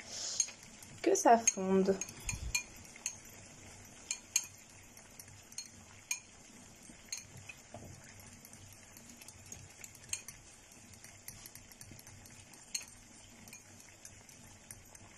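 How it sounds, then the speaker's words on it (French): A utensil stirs a melting cosmetic cream mixture of wax in a container, giving clinks and scrapes against the vessel, busiest early and then continuing as lighter, intermittent taps. Brief speech is heard. "Et donc je vais mélanger"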